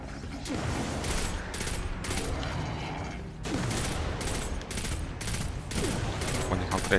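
Dense, continuous gunfire from the Destiny 2 video game, with rapid automatic bursts and weapon mechanism noises, loud and close, with a brief lull midway before the firing resumes.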